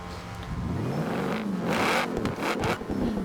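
A powerful supercharged V8 engine of a 2012 Shelby GT1000 in the video game Forza Horizon 4 revs and roars loudly, pitch sweeping up and down through several throttle blips, with a whining mechanical edge.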